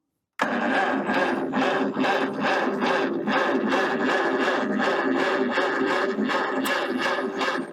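An old Farmall H tractor engine, choked, cranks over and over with a rapid, rhythmic chugging, loud and close, struggling to catch throughout.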